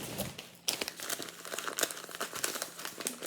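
A small kraft paper sachet crinkles and crackles in close, dense bursts of rustling, with a few sharper crisp peaks throughout.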